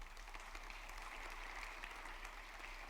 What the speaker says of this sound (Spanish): Aplauda al Señor mejor